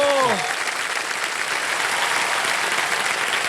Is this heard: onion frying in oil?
no